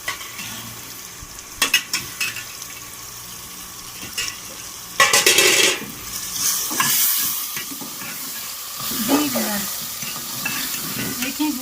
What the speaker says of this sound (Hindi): अब मटन को 10 से 15 मिनट तक मैं भूनती हूँ।